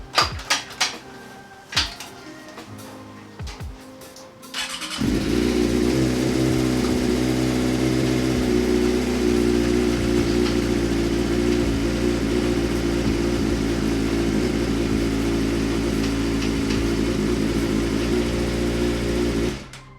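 Suzuki GSX-R 600 stunt bike engine running after a first start, with a few clanks and knocks before it settles into a loud, steady idle close by for about fifteen seconds.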